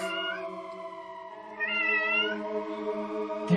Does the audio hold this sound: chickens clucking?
no